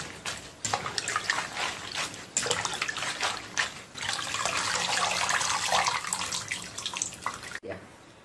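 Celery leaves are swished and blanched in a pot of water in a rural kitchen. The water splashes and sloshes in uneven bursts, with a steady pour near the end and a brief clatter as it stops.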